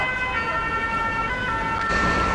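An ambulance siren wails steadily and loudly through the whole stretch, its tones held over a constant bed of road traffic noise, with no talking.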